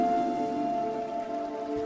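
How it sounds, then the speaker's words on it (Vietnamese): Heavy rain falls on a slippery road, a steady, fairly faint hiss that runs continuously beneath a sustained tone. "Mưa to đường trơn lắm mẹ ơi."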